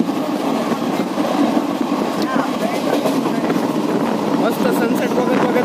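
Inside a moving 3-tier AC coach of an Indian Railways train, a steady, loud rolling rumble and hiss continues throughout, with faint rhythmic rail clatter underneath.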